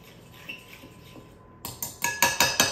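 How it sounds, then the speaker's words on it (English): Softened butter for banana bread batter is whisked in a bowl: after a quiet start, a run of six or so sharp, rhythmic metallic clinks grows louder and quicker. "I'll whisk it."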